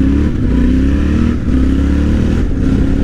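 A Yamaha Ténéré 700 World Raid accelerates hard, its twin-cylinder engine revving loud and close with rising pitch and a brief dip between pulls, no voice over it.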